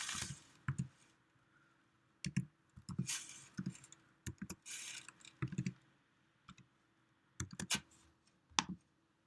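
Computer keyboard keys and mouse clicks tap in irregular bursts while a chord symbol is entered in Finale notation software, close and crisp with short pauses between clusters.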